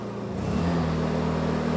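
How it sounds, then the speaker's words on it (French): A Honda EU32i inverter generator engine speeds up, its steady hum rising in pitch and loudness within a second and then holding at a higher, constant drone, close and alone. "le moteur va gagner un peu plus de puissance."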